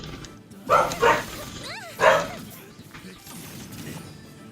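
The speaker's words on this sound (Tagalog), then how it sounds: "Ayun ang aso eh." A dog in the video game Genshin Impact gives three loud, close barks in quick succession, then a short whimpering yip, over a quiet game background.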